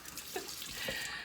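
Warm water runs from a tap over a cast iron pan being washed with dish soap, a faint steady splashing stream with small clinks, no voices.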